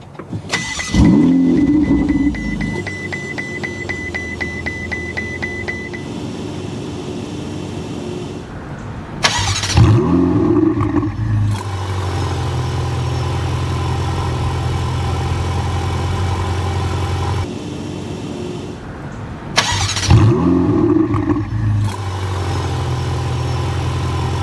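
A Ferrari 488 GTB starts three times, each a sharp starter whirr and loud rev flare, then a steady low idle between starts, close and without talk.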